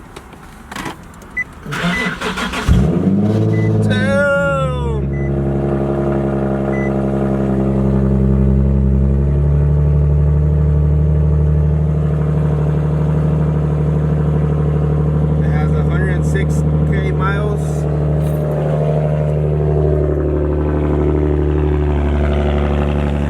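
A 2009 Nissan 370Z sport model cranks over and catches, then settles into a steady, loud idle with a deep rumble, with a few light blips of revving. A voice talks briefly near the start.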